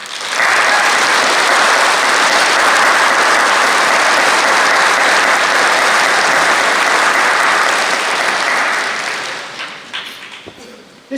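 Graduation audience in a university hall claps in a sustained, loud roar of applause that holds for several seconds, then fades into scattered claps and quiet.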